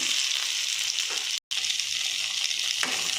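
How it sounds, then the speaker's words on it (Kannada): Garlic, ginger, green chillies and chopped tomato sizzle steadily in a hot pan, a continuous close frying hiss with a very brief break partway through. "ಇಷ್ಟನ್ನು ಸ್ವಲ್ಪ ಹೊತ್ತು ಹುರ್ಕೋಬೇಕು"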